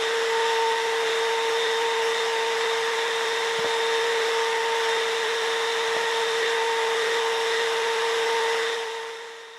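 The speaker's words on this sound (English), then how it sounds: "I'm going to try to clean it up a bit on the router table." A router table spins while routing wood, giving an even, high-pitched motor whine that holds steady throughout, with a couple of faint ticks, before tapering off at the end.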